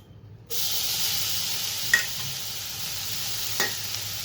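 Grated coconut for a sweet filling hits a frying pan with a steady hiss that starts abruptly and continues, broken by a couple of scraping stirs in the pan.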